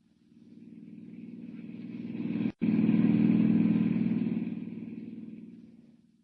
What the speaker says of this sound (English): Hiring a car, Clark Kent heads out at once on the dusty road to San Miguel, 50 miles away